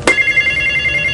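A telephone bell rings in one loud, steady burst that sustains through the whole moment, with no voices over it.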